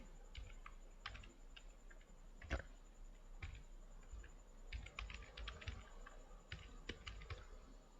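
Typing on a computer keyboard while setting up a Node JS project, with faint, sparse clicks in short irregular bursts and pauses, plus one sharper tap near the middle. No voices.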